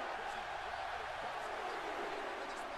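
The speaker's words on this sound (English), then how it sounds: "You could hear the crowd chanting for Apollo." Video game crowd in WWE 2K17 during a wrestling match, chanting for Apollo Crews as a steady, dense roar of many voices that stays constant and moderately loud throughout.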